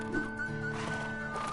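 A horse neighs in the Lego Marvel Superheroes 2 video game during its Old West free roam, a short whinny with bright tonal harmonics heard alone, close and moderately loud.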